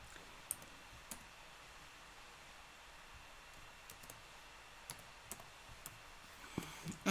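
Scattered faint clicks of typing on a computer keyboard, sparse and irregular over a quiet hiss, with a slightly louder cluster toward the end.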